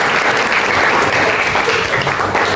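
A classroom of students claps together in a dense, steady burst, loud and close, lasting a few seconds with no talk over it.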